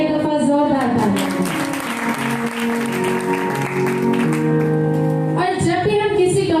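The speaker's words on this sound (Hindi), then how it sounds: "अपने लिए एक दफा जोरदार तालियां।" A sermon congregation gives loud, sustained applause that fills the whole stretch, with a steady sung or musical tone and voices carrying over the clapping.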